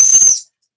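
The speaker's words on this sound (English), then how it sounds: "that's a bit of a shrill sounding whistle" A small safety whistle on a Ronhill running pack chest strap gives one loud, shrill, close blast lasting under half a second, then cuts to silence.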